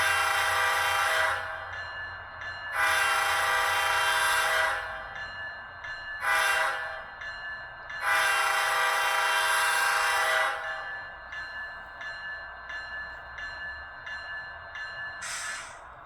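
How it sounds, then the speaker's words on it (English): A ScaleTrains BNSF ET44C4 HO-scale model locomotive horn from a LokSound 5 decoder blows in several blasts of varying length, some long and some short, loud and close, with a low hum between. "And function 2 is our horn."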